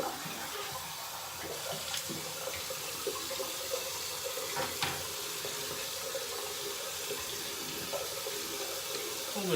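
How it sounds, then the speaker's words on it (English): Water runs steadily from a bathroom tap while someone rinses off after a nighttime shave, a constant broad hiss with small splashes and no speech. "I'm gonna rinse off real quick, I'll be back."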